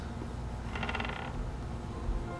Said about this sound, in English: Creaking.